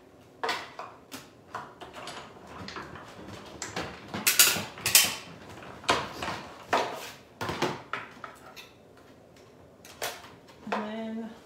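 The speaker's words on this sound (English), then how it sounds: "just running that through my die cutting machine here" A manual die cutting machine running paper through for a handmade Stampin' Up! Easter bunny card, with creaking cranks, clunks and ratcheting mechanism noises in uneven bursts, close by.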